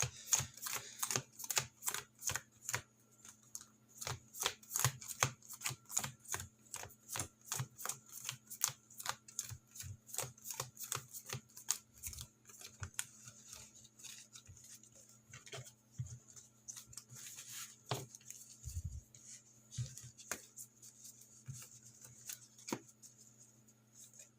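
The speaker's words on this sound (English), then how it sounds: "I'm going to shuffle the deck" Trading cards for a Yu-Gi-Oh OCG Burning Abyss deck riffle-shuffled by hand in repeated bursts of crisp, rapid ticking flutters, close and steady, with no talking.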